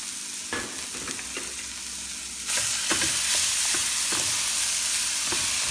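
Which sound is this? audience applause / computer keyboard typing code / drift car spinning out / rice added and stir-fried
rice added and stir-fried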